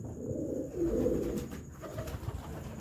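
Pigeons cooing nearby in soft, low repeated calls against a quiet background, with no speech.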